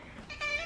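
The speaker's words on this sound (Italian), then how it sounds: "Ciao gatto Max, dove il tuo compare?" A pet cat named in a home setting gives a short, nasal bleat-like meow that swells toward the end, fairly close and loud, with no voices over it.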